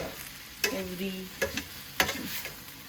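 Vegetable cubes and jaggery stirred in a hot pan, a continuous low sizzle broken by a few sharp spoon scrapes and knocks against the pan, close by and with no talking.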